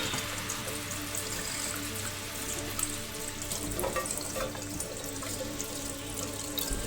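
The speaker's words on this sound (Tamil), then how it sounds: "இப்போ நான் தண்ணியை ஊற்றிட்டேன்." Tap water running steadily into a sink as asparagus is washed, a close, continuous splashing hiss with small spattering bursts and no talk.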